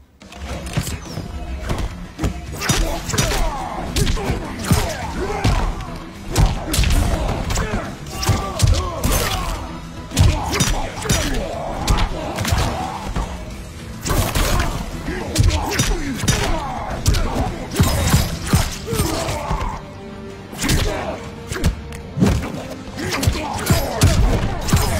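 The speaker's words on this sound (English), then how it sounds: "Round one, fight." Fight impacts from the video game Mortal Kombat 11 on PS5, a dense, loud barrage of punches, thuds, crashes and shattering hits running continuously, with busy game music and effects throughout.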